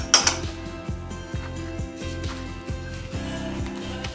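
Beaten egg and cream whisked together in a bowl for nut-free keto cheese and bacon muffin batter, a steady run of rhythmic clinks and scrapes from the utensil against the bowl, close and fairly loud with no talking.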